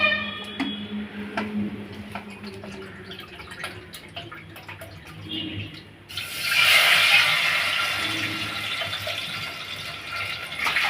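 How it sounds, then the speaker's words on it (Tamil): Water poured into a cup for cooking pongal with oil, a steady splashing fill that swells louder halfway through and continues, close and clear without speech. "இந்த கப்பில் அஞ்சு கப்பு தண்ணி ஊற்றணும்"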